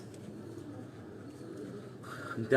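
Black-faced pigeons kept on a rooftop in Sialkot coo softly and steadily at a moderate distance, with a louder burst of movement near the end.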